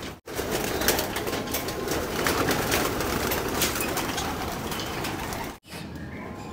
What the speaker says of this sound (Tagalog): Papalabasin na natin sila mga kalapatids.